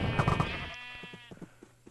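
A sheep bleats loudly in a Minecraft game, one drawn-out wavering cry at the start that fades, followed by faint clicking game sounds.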